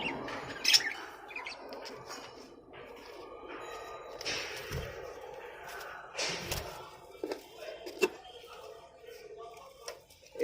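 Hand-raised pet birds in a breeding setup give scattered chirps and squawks at close range, interrupted by occasional knocks and handling sounds, with a person talking intermittently.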